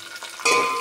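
Garlic cloves and curry leaves hit hot oil in a pan, a short sudden burst of crackling sizzle that jumps up and holds steady, close by, with no talk.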